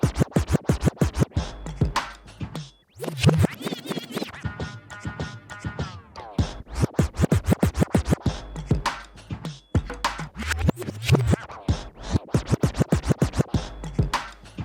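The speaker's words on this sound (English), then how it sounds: "this scratch that I'm doing is a simple baby scratch" A DJ scratches back and forth on a Hercules DJControl Inpulse T7 controller in quick, rhythmic baby scratches, the forward and backward strokes alternating steadily with short gaps.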